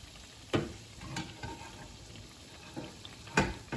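Stuffed Lotus Biscoff donuts frying in hot oil, a soft steady sizzle with occasional louder crackles and pops as they are turned, fairly quiet and without talk.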